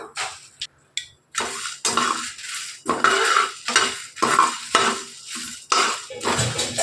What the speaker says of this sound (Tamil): நான் ஒரு அஞ்சு பட்டை மிளகா சேர்க்குறேன் நீங்கள் உங்கள் காரத்துக்கு ஏற்ப சேர்த்துக்கோங்க இந்த நல்லா வறுத்து எடுத்துக்கலாம்